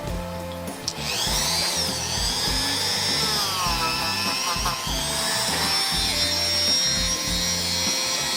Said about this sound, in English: I polished these up with my Dremel